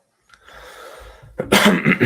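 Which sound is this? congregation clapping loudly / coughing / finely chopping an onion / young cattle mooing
coughing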